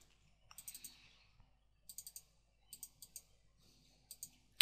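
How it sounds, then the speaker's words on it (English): Mouse clicking on a computer, several crisp close clicks spaced out in small groups over quiet room tone. "so let's click the button there."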